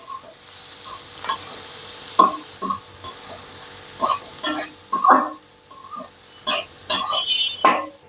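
Okra masala fry is stirred in a pan with a spatula, giving intermittent scraping and clinking strokes over a faint sizzle, spaced irregularly across several seconds.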